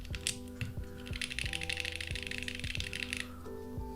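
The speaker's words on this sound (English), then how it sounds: "Ghosty, type in the build command, or the keyboard command." Rapid clicking of keys on a mechanical keyboard, a fast steady patter of taps over a low background hum, close and fairly quiet.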